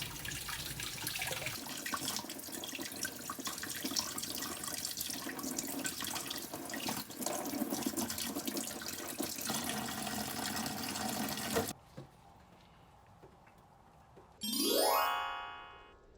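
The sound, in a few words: scrubbing abalone shells under running tap water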